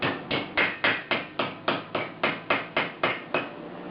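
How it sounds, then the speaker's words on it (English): Steady hammer strikes bending metal on a 1976 Mazda RX-5 fender repair, about a dozen evenly spaced clanks roughly every third of a second, close and moderately loud with no talking. "Notice how I'm pushing the hammer out as opposed to just bashing it down."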